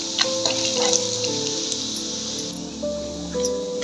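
Masala brinjal frying in a pan is stirred, giving a light crackling sizzle and soft scraping under faint background tones.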